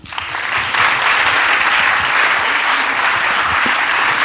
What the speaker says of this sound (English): Let's give Maaike a warm round of applause